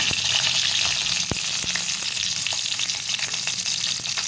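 Whole tomatoes sauté in hot oil in a pan for a coconut tomato chutney, giving a loud, steady sizzle with a few sharp crackles and pops.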